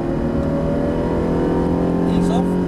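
Ferrari 360 accelerating hard out of a corner at Brands Hatch, a loud, sustained engine drone with a rising pitch toward the end, heard from inside the car over an instructor's voice.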